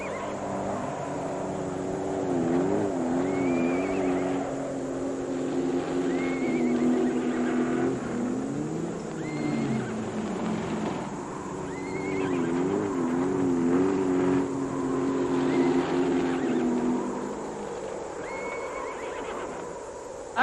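Ponies whinnying repeatedly, with shaky wavering calls over a steady windy sandstorm roar, the animals moving about at moderate distance.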